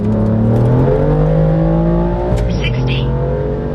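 A car driving after being flashed with an MHD tune, its engine revving steadily and loud throughout, with a brief whine and some speech-like sound near the end.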